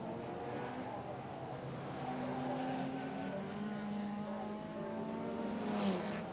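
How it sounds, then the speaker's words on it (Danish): Mercedes race cars race in the rain at a Danish Grand Prix, engines droning and whining as they rise in pitch, loud under a commentator talking over them. "Vi ser her, at Peter Elgaard, han går forbi Jesper Willumsen i nedbremsningen."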